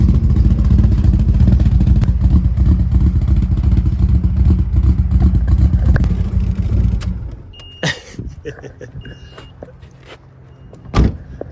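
A drift car's engine runs rich and loud with a steady rumbling rev for about seven seconds, then cuts out, leaving a few sharp clatters and knocks near the microphone.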